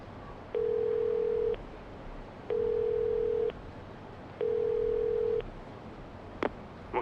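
A payphone dial tone in the Yakuza 0 video game sounds as three steady, clean tones, each about a second long, separated by short gaps, followed by a brief click near the end, with no talk.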